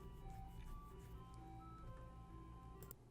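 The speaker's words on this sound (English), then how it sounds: "Ah, good old ice cream truck." Ice cream truck jingle playing faintly in the distance, a tinkling repeating melody over low background hum.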